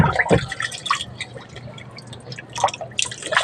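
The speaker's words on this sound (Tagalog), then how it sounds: "So ang gawin natin dito ay uugasan natin ng tubig." Water is poured over an amplifier to wash it, splashing and dripping in uneven bursts, quick splashes with quieter trickling between them, close by.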